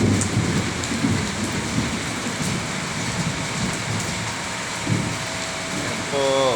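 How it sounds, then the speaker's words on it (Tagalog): Heavy morning downpour in Pasay City during a thunderstorm, a dense steady roar of rain with low rumbles of thunder throughout, plus a brief tonal sound near the end. "Ang lakas ng ulan dito sa Pasay."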